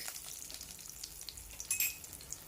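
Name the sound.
tempering red chillies, curry leaves and asafoetida in oil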